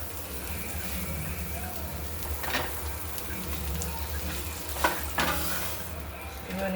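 Pav bread rolls toast in a pan with butter and coriander, a soft steady sizzle broken by a few sharp scrapes and taps of a spatula against the pan.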